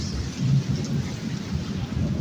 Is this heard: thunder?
yes